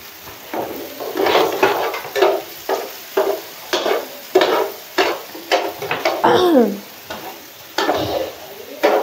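Shawarma chicken filling is stirred in a hot pan, rhythmic scraping strokes about once a second over a steady sizzle, close and fairly loud, with a brief squeaky scrape midway.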